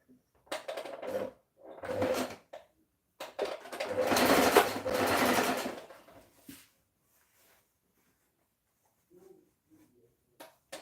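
A sewing machine runs in short bursts while stitching a dress side seam as its thread runs low, with three close mechanical whirring runs, the longest in the middle, then quiet with faint handling clicks.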